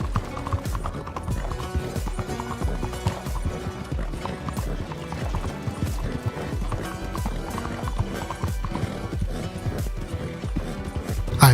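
An Arabian horse gallops in Red Dead Online, its hooves hammering out a fast, steady, loud clip-clop rhythm that runs continuously, with faint game ambience underneath.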